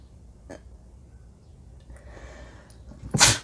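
A single sharp sneeze bursts out at the end after a few quiet breathy sounds and faint rustles, close and fairly loud.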